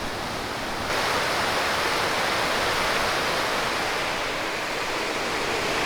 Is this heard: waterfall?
yes